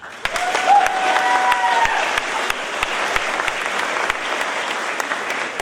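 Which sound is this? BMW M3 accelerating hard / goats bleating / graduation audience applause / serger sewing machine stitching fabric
graduation audience applause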